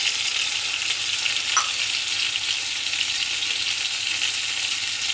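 Mustard oil heating in a pot on the stove while cooking chicken village-style, giving a steady, close hissing sizzle that holds evenly throughout with no talking.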